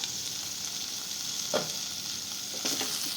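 Bitter gourd sautéing in a pan, a soft steady sizzle with a couple of brief stirring scrapes.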